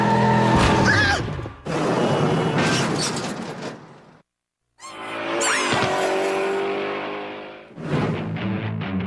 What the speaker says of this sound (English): we teach the bad drivers how to deal with a rear-end skid